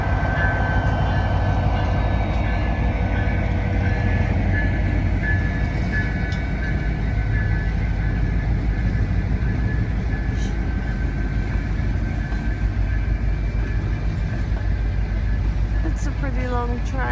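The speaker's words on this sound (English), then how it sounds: "It's a pretty long train" A long tourist train in Skagway, Alaska rolls past with a continuous low rumble and steady rail clatter throughout, close and sustained.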